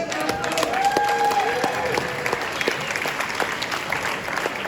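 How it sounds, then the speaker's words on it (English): Audience applause at an anti-war meeting in Conway Hall, moderate and steady, with a voice or whistle-like tone rising briefly above the clapping early on. "So give yourselves a big round of applause."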